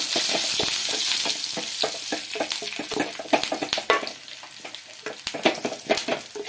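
Onion and curry leaves frying in a pan for a traditional Kerala curry, a steady loud sizzle with crackling pops and stirring scrapes throughout, no voices.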